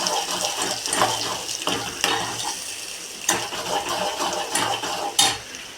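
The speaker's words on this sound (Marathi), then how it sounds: "याच्यामध्ये आपण थोडं पाणी टाकून घेऊ" Water splashes and sizzles as it is poured into a hot pan of ground masala for a besan curry, with metallic clinks of a utensil stirring, the sputtering rising and falling in short bursts.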